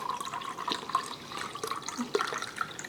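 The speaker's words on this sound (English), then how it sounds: "Now we're just going to fill this can up with a can of this broth." Store-bought beef broth is poured into a can, a soft gurgling liquid trickle with small splashy bloops, close and fairly quiet throughout.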